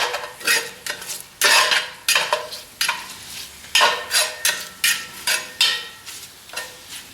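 Cooked bacon strips get chopped inside a metal Dutch oven, a dozen or so rhythmic scraping knocks of a utensil against the pot over a faint sizzle.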